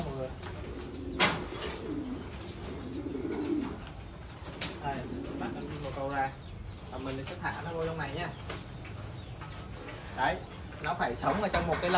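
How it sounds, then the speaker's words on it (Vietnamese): Pigeons of the American Giant breed coo softly in a large cage on a farm, with occasional wing flaps and rustling, while a person talks over them throughout. "Bây giờ mình sẽ bắt con chim bồ câu ra trước này."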